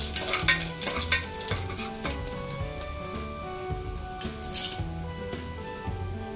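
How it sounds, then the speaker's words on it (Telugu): Garlic cloves, mustard seeds and cumin frying in hot oil inside a cooker, a close sizzle with a regular clinking of a spoon against metal, no voices. "ఆయిల్ హీట్ అయిన తర్వాత 4 వెల్లుల్లి రెబ్బలు, ఆవాలు, జీలకర్ర వేసుకుంటున్నాను"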